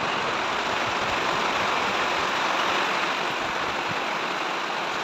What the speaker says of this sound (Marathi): मे महिन्यातला पाऊस आहे हा.